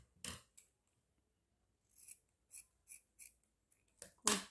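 Scissors snip through ribbon while a hair bow and wide headband are made, giving a few sharp, close cuts spread across the moment and a louder final snip, with no talk.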